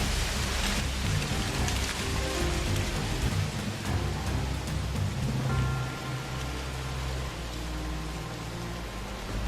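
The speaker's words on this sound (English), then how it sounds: "They were accompanied by heavy rain." Heavy hurricane rain pours down in a dense, continuous roar, steady and close throughout with no voices.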